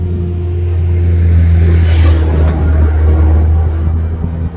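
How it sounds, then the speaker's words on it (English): A tractor passing on a country walk, a loud steady low engine drone with a rising rumble as it goes by outdoors, close to the listener. "Just let me get this tractor to go past, because obviously I've no microphone."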